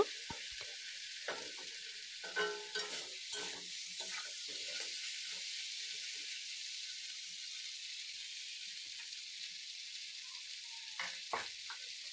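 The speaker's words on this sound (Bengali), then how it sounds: "এবার আমি আগে থেকে ভেজে রাখা আলুটা দিয়ে দিলাম, দিয়ে আবারও মাংসটাকে ভালোভাবে আলুর সাথে একই রকম ভাবে কষিয়ে নেব।" Quiet, even sizzle of chicken being sautéed with pre-fried potatoes in a pan for a village-style chicken curry, with occasional soft stirring scrapes and taps.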